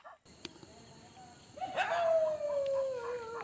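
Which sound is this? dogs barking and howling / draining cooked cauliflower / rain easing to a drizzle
dogs barking and howling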